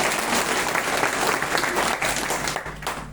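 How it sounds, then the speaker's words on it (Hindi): Loud, vigorous applause from a gathered audience answering a call for a big round of clapping, dense and continuous with a slight easing near the end, heard close and alone. "चलिए एक बार जो है सभी के लिए जोरदार ताली।"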